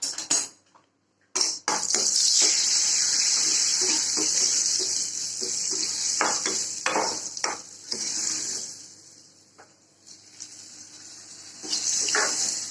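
Dried red chillies sizzle in hot coconut oil for a mango moor kuzhambu tempering, a bright steady hiss that swells and fades, with a few clinks and scrapes of a utensil.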